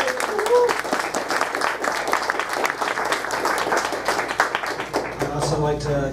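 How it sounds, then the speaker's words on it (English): An audience claps in sustained applause at an America's Future Foundation Atlanta chapter evening event, a dense even patter of many hands that runs throughout, with a voice starting to speak near the end. "I want everyone to give Jason another round of applause."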